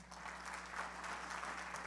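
A church congregation applauds in a steady, dense wash of clapping, heard fairly faintly and without voices over it.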